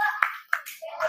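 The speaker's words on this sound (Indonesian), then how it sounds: "Kita kasih tepuk tangan dulu." Children in a classroom give a few quick, sharp hand claps, two or three distinct slaps spaced apart with a voice faintly around them, close and brief.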